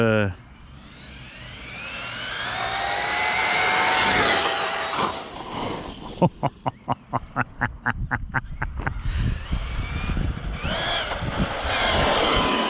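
A radio-controlled car's engine whines and accelerates, rising in pitch, then pulses in a rapid burst of revs before running on, heard close with someone speaking over parts of it.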